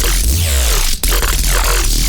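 A synthesized growl bass patch, shaped with pitch bend and mod wheel, churns loudly and continuously with a heavy low end and wobbling, sweeping upper harmonics, briefly cutting out near the middle before resuming.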